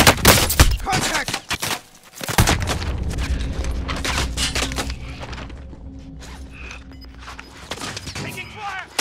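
Call of Duty: Modern Warfare gunfire crackles in dense, overlapping bursts and single loud shots, with booms and mechanical clatter, while voices call out over the battle.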